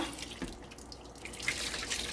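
Water runs steadily from a tap into injera batter made with white teff and barley, a continuous close rushing splash with no pause.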